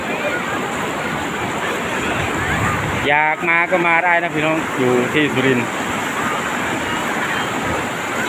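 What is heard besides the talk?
rushing floodwater flowing like a waterfall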